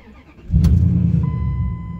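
A Dodge truck engine, one with a stalling problem, cranks and catches with a loud burst, then settles into a steady, close, rumbling idle.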